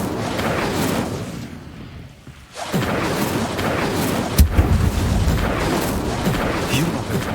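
An Incendio fire spell effect in a video game gives off a roaring, whooshing burst with a deep boom partway through, loud and close, and a voice speaks over it.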